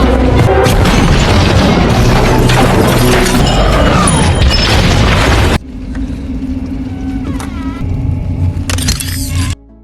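An alien ship shot down by a bracelet weapon explodes in a loud, sustained roaring blast of crashing debris, then cuts to a quieter rumbling aftermath with a steady low hum and faint whooshing swells.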